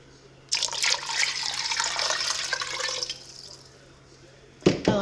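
Water pours into a pot for chicken and dumplings, a steady splashing rush for about two and a half seconds that then tapers off, followed by a brief clatter near the end.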